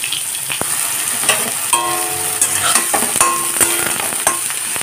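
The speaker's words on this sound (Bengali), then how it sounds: "তেলটা গরম হতেই এখন দিয়ে দেব বেগুনগুলোকে, কেটে রাখা বেগুনগুলো।" Cut eggplant pieces fry in hot mustard oil in a wok, a loud continuous sizzle broken by sharp crackles and stirring scrapes, with no talking.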